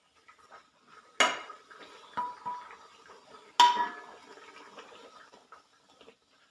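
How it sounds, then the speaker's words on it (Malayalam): One cup of semolina is tipped into boiling water in a pot, making two short rushing, splashing bursts with light metallic clinks in between, close and fairly quiet. "നമുക്കിതിലേക്ക് 250 ഗ്രാം കപ്പിൻ്റെ 1 കപ്പ് റവ ഇട്ട് കൊടുക്കാം"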